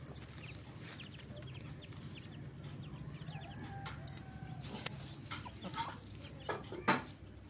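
A country hen clucks softly near her chicks, with short, irregular clucks and faint cheeps over a quiet rural background, rising to a few louder calls toward the end.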